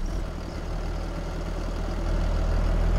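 A tractor engine runs steadily at close range in a rural village setting, a low rumbling idle that holds constant and grows slightly louder toward the end, with no talk.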